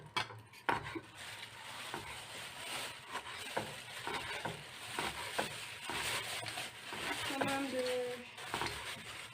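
Meat sautés in a pan at home, a steady sizzle broken by scraping stirs and clinks of a utensil against the pan, with brief scattered knocks throughout and no talk.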